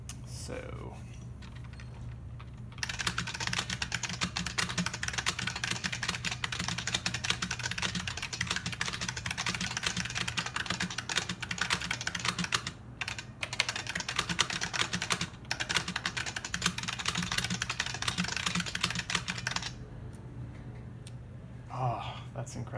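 Rapid continuous typing on a Model F reproduction F62 Kishsaver keyboard, dense crisp key clatter running for about seventeen seconds with a brief pause midway, close and fairly quiet, set between quieter stretches at the start and end.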